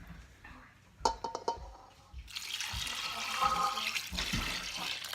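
A few light taps and clinks, then liquid pours steadily over mixed fruit for a Lao nam wan dessert in a soft, continuous splashing stream, close by.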